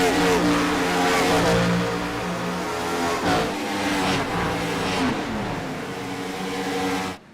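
Gen 4 Cup race cars with 9,200 RPM engines roar past at Atlanta, a loud sustained engine wail with swelling passes, under a race commentator's voice.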